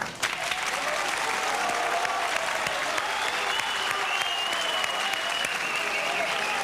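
A concert audience applauds for a singer in a sustained, even wash of clapping that starts right away and holds loud and steady, with a faint tonal hum running beneath.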